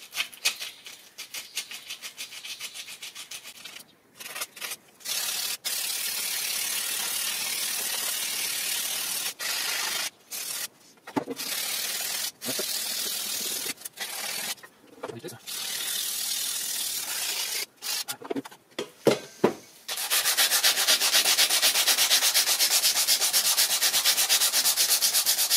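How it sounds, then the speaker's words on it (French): Scrubbing the inside of a Keops HK 90 X range hood: long stretches of steady close rubbing and scouring broken by short pauses and a few knocks, ending in louder, harsher scrubbing. "je nettoie partout l'intérieur"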